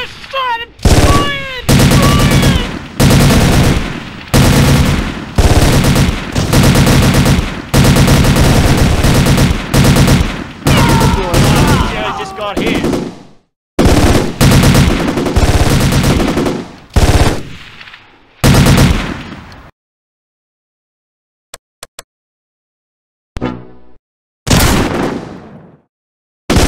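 Machine-gun and rifle fire in the Close Combat war game, loud rapid bursts of automatic gunfire with short pauses, then sporadic isolated shots and near silence toward the end.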